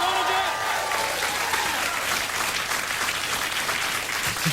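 Studio audience applause at a late-night talk show, a steady dense wash of clapping that holds at full strength throughout, with some voices mixed in underneath.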